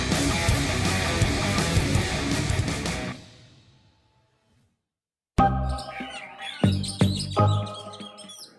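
Magpie robin (kacer) kept as a contest bird, calling in short, sharp chirps and squawks: a loud burst of song, then a near-silent pause, then more chirps at close range.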